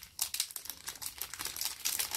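The packaging of a Lancôme advent calendar is pulled open with quick bursts of crinkling and crackling paper or plastic. The handling is close, busy and irregular, with no talk.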